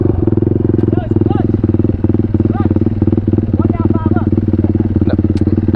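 A Honda dirt bike engine idles close and loud with a fast, steady thumping pulse, revving slightly at moments while people talk over it.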